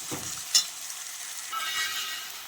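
Onions with ginger, chilli and garlic stirred in a frying pan while cooking rajma, a soft steady sizzle with a spoon scrape or two near the start, close and quiet.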